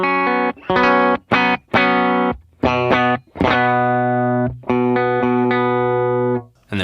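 Electric guitar in a clean tone through a pedalboard, playing a series of bright, sustained chords and notes in short rhythmic bursts with brief gaps, loud and close with no talk.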